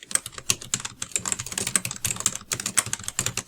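Steady rapid keystrokes on a computer keyboard while information is entered into an office document, irregular clicks close and clear with no talking.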